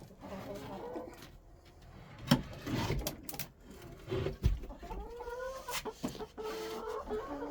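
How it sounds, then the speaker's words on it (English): Silkie chickens, including a Silkie rooster, cluck in short irregular bursts near the listener, with wing flaps and handling noises in a sheltered coop during a storm. "That's a Silky rooster."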